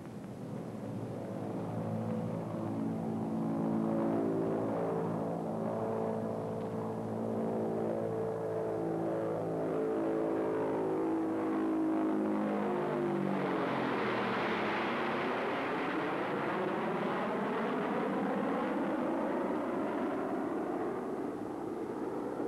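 An Air Force aircraft, a B-36 bomber, rolling down the runway for takeoff, its engines a loud, sustained roar that rises in pitch, then sweeps and shifts as the plane passes, with no talk.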